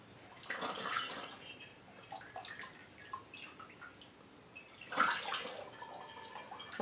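Pumpkin pie moonshine poured through a funnel and mesh strainer, a soft trickling, dripping liquid sound close by with two louder splashing surges and scattered drips between.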